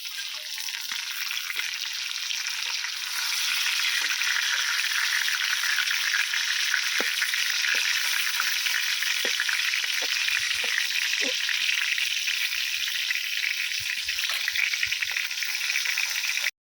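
Pointed gourd (potol) pieces frying in oil, a steady broad sizzle that swells and holds loud, with scattered light clicks and rattles of stirring throughout.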